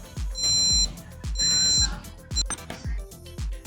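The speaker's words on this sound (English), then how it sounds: "When it finishes, it beeps and displays this message." Arduino UNO Q workshop timer beeping on finishing, several loud bright electronic beeps in short bursts, interspersed with sharp clicks.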